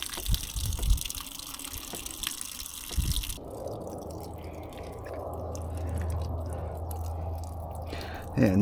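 Water from a Thetford toilet cistern gushes out through a diverting pipe, a continuous rushing flow with an abrupt shift in tone partway through, running on alone.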